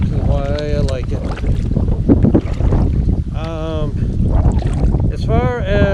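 Strong wind gusts roar across the microphone while bass fishing from a kayak on a lake, a loud continuous rumble beneath a person talking intermittently.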